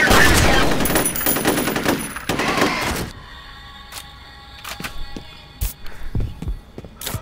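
Shotgun blasts and rapid gunfire from the first-person shooter FEAR roar loudly for about three seconds, followed by a few scattered sharp shots and impacts against quieter game ambience.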